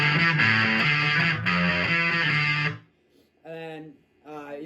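Distorted electric guitar riffs ring out with sustained chords for almost three seconds, then two shorter, quieter chord stabs follow after a brief gap.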